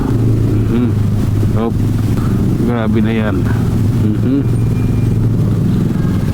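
Road traffic around a rider on a motorcycle in a bike lane, with a steady low engine hum and passing vehicle noise, while someone talks over it.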